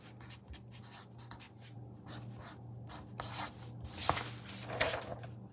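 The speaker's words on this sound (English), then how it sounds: "I'll also write it like this so you can see it." Handwriting with a pen or marker on a surface gives soft, scratchy rubbing strokes in irregular bursts, faint and close, over a low background hum.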